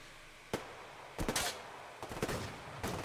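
Gunfire in the post-apocalyptic shooter Survarium: four short bursts of shots, one sharp single crack followed by three longer clattering volleys, fairly loud over a quiet background.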